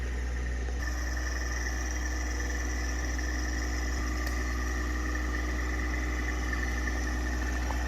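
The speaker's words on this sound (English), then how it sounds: "Here's Chase coming on down in the John Deere." John Deere tractor coming down a country road while scraping it, a steady low engine drone with a continuous mechanical hum, fairly even and unbroken, with no talk.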